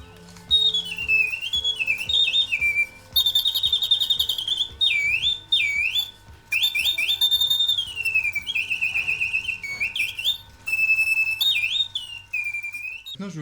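A restored mechanical singing bird automaton plays warbling birdsong: repeated bright whistled trills and swooping chirps in phrases with short pauses, loud and close, over a faint steady mechanical whir.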